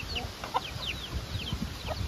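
Sandakozhi chickens, a hen and chicks, cluck and peep faintly outdoors in Dharmapuri, with soft scattered calls and a few higher chirps over low background noise.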